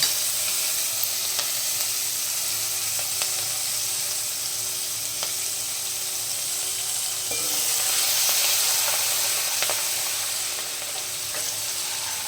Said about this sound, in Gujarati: આપણે હિંગ એડ કરીશું, હળદર, કઢી પત્તા, આદુ લસણ મરચાંની પેસ્ટ,